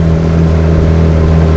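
A homemade motorboat driven by an outboard motor, cruising at mid speed with a loud, steady droning hum and a constant whir, close by and without speech.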